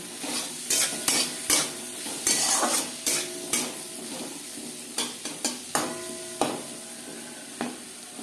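Winter vegetables with turmeric and salt frying in a pan, a soft continuous sizzle broken by repeated sharp scrapes and clinks of a spatula stirring, close and fairly quiet.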